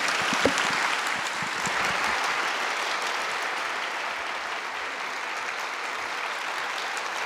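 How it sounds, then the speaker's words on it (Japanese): A large audience at a talk by a Buddhist temple head priest gives sustained, even applause in thanks, a steady roar of many hands clapping close and loud throughout. "皆さんからも盛大な拍手でお礼を申し上げましょう"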